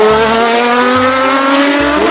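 A toy race car gives off a loud, steady electronic engine whine with a slowly rising pitch, accompanied by pulsing low tones, and then cuts off abruptly.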